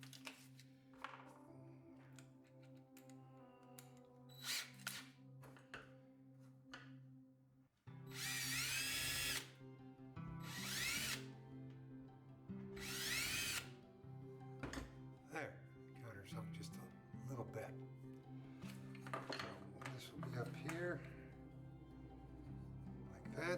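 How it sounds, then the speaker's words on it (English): A power drill with a countersink bit bores into screw holes in wood for a rubber band shooter, running in several loud bursts between quieter handling and tapping, with a person talking throughout. "And I might even want to countersink them just a touch"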